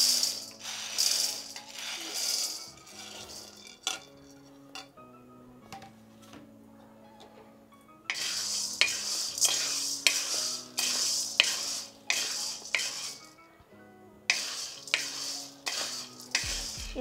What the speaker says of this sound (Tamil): கொண்டக்கடலை போட்டு வறுக்கலாம்.